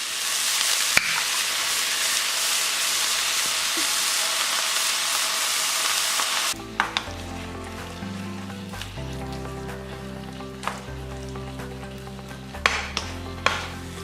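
Frozen garlic and tomato purée sizzle loudly in a hot pan, a dense, steady hiss for several seconds before it abruptly drops away beneath other sounds.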